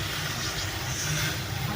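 Water poured into hot, frying egg curry masala gives a dense, continuous hiss and sizzle with a low rumbling bubbling beneath, steady and fairly loud throughout.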